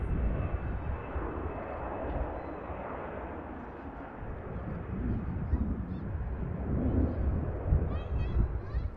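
A steady, broad roar comes from an Eastern airliner taking off at Manchester Airport, swelling slightly toward the end, while someone talks over it.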